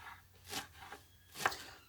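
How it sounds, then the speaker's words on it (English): Fresh cleavers herb, washed, being chopped on a board before juicing: two distinct knife chops about a second apart with faint softer cuts between, close and quiet with no talking. "So just chopping up those cleavers,"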